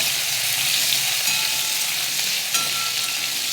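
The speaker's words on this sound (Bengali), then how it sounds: "আলুতে একটু জল ছিল, নুন হলুদ দিয়ে আলুটাকে ভালো করে ভাজবো।" Potatoes with salt and turmeric fry in hot white oil, a constant close hiss with brief stirring clinks and scrapes, no talking.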